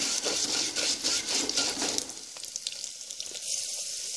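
Onions sauté in a pan with golden fried urad dal for a cockscomb greens mash, giving a dense broadband hiss that thins to a quieter sizzle with light scraping.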